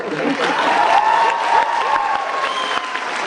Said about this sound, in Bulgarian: Аплодисменти за Филип!